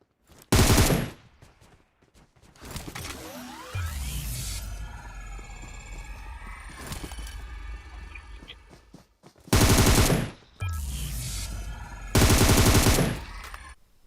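Loud bursts of rapid video game gunfire crackle in the foreground at a petrol pump, separated by stretches of engine rumble and background noise.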